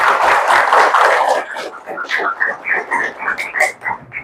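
A classroom group claps for group 1 during an Islamic religious education teaching practice session, a dense burst of applause that fades after about a second and a half into voices.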